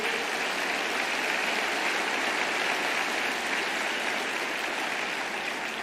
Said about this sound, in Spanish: Dele un fuerte aplauso al Señor por él.